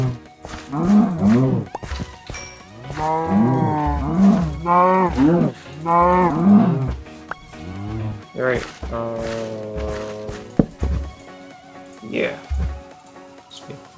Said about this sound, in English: Love how I'm just stabbing the cows this whole episode